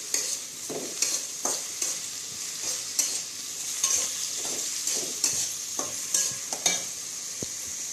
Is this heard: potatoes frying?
yes